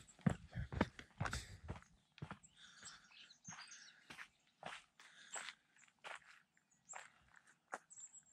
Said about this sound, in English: All the birds are out this morning chirping.